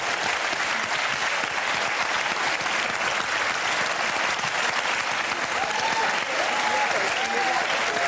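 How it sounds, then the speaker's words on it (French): Studio audience applauding a newly crowned Miss France on a French late-night talk show, a dense, steady roar of clapping lasting throughout, loud and close, with faint tonal sounds surfacing near the end. "On peut quand même encore applaudir notre nouvelle Miss qui a supporté."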